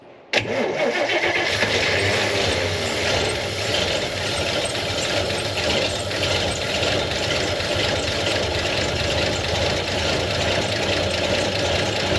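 An old car nicknamed Old Yeller with a weak fuel pump runs on with no gas in the tank, its engine a steady, loud, close rumble that fills the whole stretch after a sudden start.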